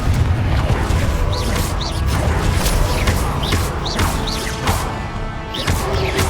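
Repeated Confringo blasting-spell explosions in Hogwarts Legacy, loud booms and crashes recurring about every second with whooshing sweeps, dense and continuous with no talk.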